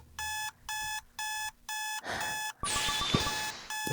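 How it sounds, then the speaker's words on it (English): An alarm clock rings in the video game Butterfly Soup as four loud bursts of electronic beeping, each about a third of a second long, followed by a dense clatter of mixed sounds. "I'm just going to get to the point where we turn the alarm off"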